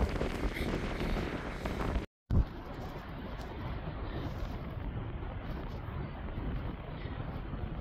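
Strong wind on the coast at St Bees, England, roars and buffets the microphone in a constant low rumble, broken by one brief dropout, with no speech heard.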